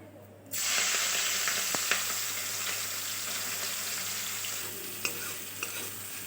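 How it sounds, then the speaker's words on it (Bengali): Shrimp dropped into hot oil in a kadai, bursting into a loud, steady sizzle that holds throughout, with a few small pops and crackles and the clatter of stirring. "তেলটা গরম হয়ে গেছে, এবার চিংড়ি মাছগুলো দিয়ে দেব।"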